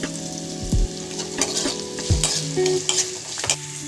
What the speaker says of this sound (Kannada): ಈರುಳ್ಳಿ ಸ್ವಲ್ಪ ಕೆಂಪು ಫ್ರೈ ಆಗಲಿ, ಬ್ರೌನ್ ಕಲರು.